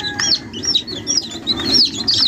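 Young sweater-breed gamefowl chicks, including crosses, peeping in quick, high, repeated chirps close by, with soft clucking underneath and no talking.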